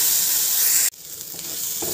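Ginger and green chili paste dropped into hot white oil with nigella seeds in a wok: loud, close, steady sizzling hiss that cuts out abruptly partway, then builds back up, with no voices.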